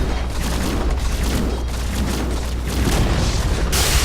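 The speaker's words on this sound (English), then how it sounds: "Your middle tower burned to the ground." Tower collapsing and burning in a Blade&Soul game battle: a steady dense rumble of crackling booms and fiery roar, loud and continuous, swelling slightly toward the end with a brighter burst of noise.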